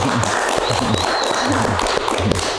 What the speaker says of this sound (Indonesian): Beri tepuk tangan dong buat Kang Bubung.